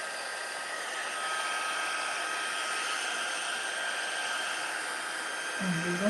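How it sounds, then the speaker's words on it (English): Heat gun blowing for heat embossing metallic powder, a steady loud whooshing hiss with a faint whine, holding constant for about six seconds before a brief low bump at the end. "Let my heat gun heat up here just for a minute."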